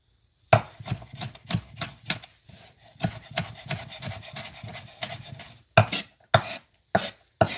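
Knife blade chopping garlic on a wooden cutting board, a rapid series of crisp, close taps in bursts with brief pauses and scraping gathers between them.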